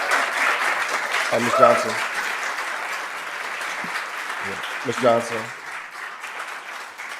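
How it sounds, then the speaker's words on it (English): Applause at a Columbus city council meeting forms a steady, moderately loud wash of clapping from a crowd that runs throughout, with a person speaking briefly over it twice. "I know you probably couldn't hear me over the thunderous applause."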